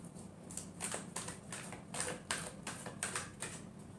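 Tarot cards being shuffled during a love reading, heard as a run of quick, dry riffling bursts in an uneven rhythm, close and fairly quiet, with no speech.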